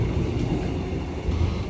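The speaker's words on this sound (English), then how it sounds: "I'm on the train in Thailand." Steady low rumble of a passenger train riding through Thailand, heard from inside a carriage, with continuous rolling wheel noise and no voices.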